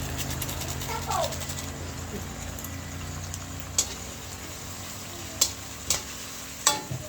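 Vegetables and tofu being stirred in a frying pan with pepper added: soft scraping and gentle sizzle, with a few sharp clinks of utensil against the pan toward the end under faint background noise.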